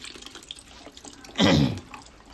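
A short burst of running tap water splashes over mung lentils being washed in a sink, about a third of a second long, amid quiet kitchen background.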